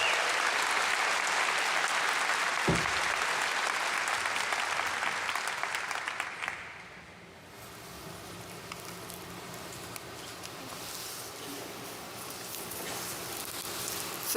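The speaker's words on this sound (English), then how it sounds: "One last round of applause for our graduates" A convocation audience at Grenfell Campus claps loudly for graduates in a dense, sustained ovation, the clapping fading partway through, then lighter scattered applause carrying on in a large hall.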